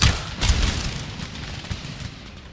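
Dense, rumbling bursts of musket gunfire and explosions in Empire: Total War roll together continuously, loud and booming at first, then settling into a steady crackling barrage.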